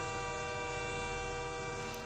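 A train at a railway station gives a long, steady horn blast that holds loud and unbroken for about two seconds, with no voices.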